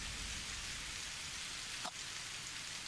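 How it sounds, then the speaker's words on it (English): Drizzling rain in the video game Without A Dawn, a steady soft hiss of fine drops with no other sound, holding at an even level throughout. "Drizzling rain has replaced the chilly autumn wind."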